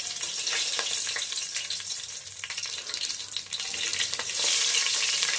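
Whole garam masala and black cardamom sizzle steadily in hot ghee, a bright continuous crackle close up with occasional stirring scrapes throughout.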